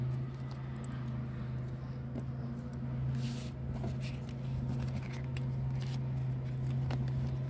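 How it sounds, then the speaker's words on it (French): Agricultural machinery drones steadily in the background, a constant low mechanical hum running unbroken throughout, moderately distant and fairly quiet. "C'est dommage qu'il y ait ce son là de machines agricoles."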